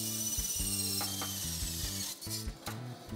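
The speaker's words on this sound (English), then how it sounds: "Just cut them to length super quick on the old bandsaw." A bandsaw cuts aluminum corner angle to length, giving a steady mechanical hum with repeated ratcheting, rattling bursts as the blade works through the metal, fairly close and without talk.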